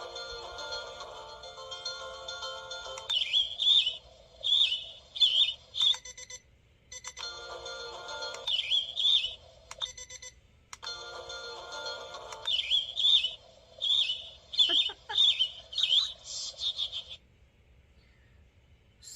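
Bird song ringtone from a GOLOZA digital alarm clock: electronic chirping and tweeting phrases repeating in short bursts with brief gaps, fairly close and clear over a quiet room.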